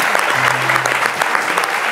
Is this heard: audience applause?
yes